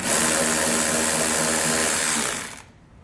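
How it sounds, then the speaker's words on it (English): A power tool drives a 7mm socket to remove a fastener in the corner of a 2011 Chevrolet Traverse during a base plate install, a steady loud whir running for about two and a half seconds before cutting off. "we're going to use a 7mm socket to get that one removed"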